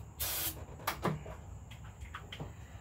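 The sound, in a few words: aerosol spray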